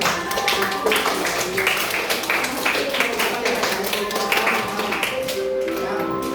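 Audience applause at an Indonesian office presentation, a steady dense patter of hands clapping for several seconds, fairly loud, with a voice speaking faintly underneath.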